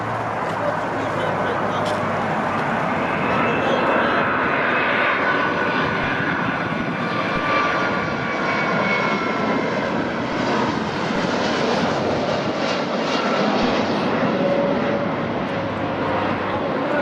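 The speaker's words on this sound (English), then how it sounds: "Coming from Dublin, Ireland is United 316, flown by a Boeing 757-200 sporting the airline's old livery inherited from Continental Airlines." A United Boeing 757-200 jet on a flight from Dublin, heard as a steady, loud, broadband engine roar that holds for the whole stretch with no break and gently rising whine.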